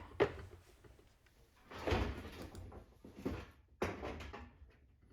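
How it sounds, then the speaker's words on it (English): A dishwasher door with a newly replaced latch assembly is pushed shut several times, each close giving a sharp thump and latch click, with quieter shuffling and handling noises in between. "after replace the door latch assembly, this door can latch"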